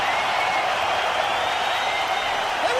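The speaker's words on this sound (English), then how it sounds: "Can you guys hear the ovation from this crowd?" A dense, continuous crowd ovation roaring steadily from a large arena audience at a WrestleMania-style wrestling event, a loud, unbroken wash of cheering and clapping that fills the whole stretch without letting up.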